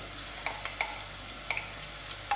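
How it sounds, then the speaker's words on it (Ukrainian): Rice toasts in oil with softened onion for risotto, a continuous close sizzle broken by several sharp scraping clicks as a utensil stirs the pan, and no talking. "І цей рис е, ми його прожарюємо на цій олії."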